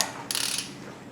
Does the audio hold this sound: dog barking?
no